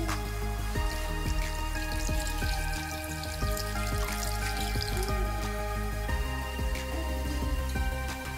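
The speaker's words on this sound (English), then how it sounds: "Now I'm going to put some of the spice, some of the brine I used just for it to cook in." Brine poured into a slow cooker holding a goose, a close, continuous wet trickle and splash with small drips.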